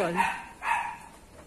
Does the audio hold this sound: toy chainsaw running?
no